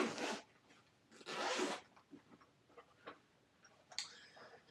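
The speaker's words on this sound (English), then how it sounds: "And unzip it." A zipper on a case is pulled open in two loud, close strokes, followed by a few faint clicks and handling noises.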